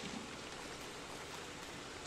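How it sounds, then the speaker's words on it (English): Rain in the video game Don't Starve hisses as a steady, soft, even wash of falling drops with no other sounds. "This is actually the longest I've ever seen this rain last like this."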